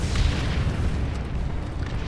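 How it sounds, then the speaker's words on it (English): An artillery strike in Dawn of War 2 Chaos Rising, a rumbling wash of deep explosions rolling continuously for a couple of seconds at moderate loudness, with no talking over it. "Incoming artillery strike."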